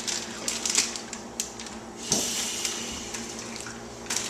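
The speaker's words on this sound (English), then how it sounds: "I'm cleaning the Cheeto bag because we're going to shrink it and make bracelets out of it." Running water from a tap rinses out an empty Cheeto snack bag, a soft steady splash broken by crinkly plastic knocks and rustles, fairly close and alone without voices.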